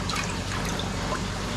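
Water carrying small bluegill and sunfish is poured into a farm pond, producing a steady, close splashing trickle that runs continuously without pause.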